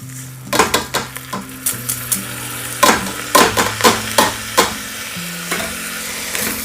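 Rice dry-roasting with spices in a pan for a Kerala masala rice, a steady sizzle with a quick series of sharp, close scraping and tapping stirs, no talk.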